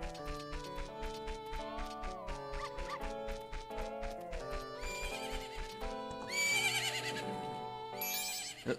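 A horse in Majora's Mask HD whinnies in a high, wavering neigh near the end, after rhythmic clip-clop beats under the game's melodic tonal music, with no talk.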